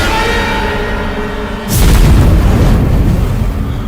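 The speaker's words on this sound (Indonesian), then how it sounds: "sebuah dentuman sangat keras terdengar di langit-langit bangunan itu" A sudden, very loud boom cuts in after a steady tonal hum, followed by a deep, rumbling roar that lingers to the end.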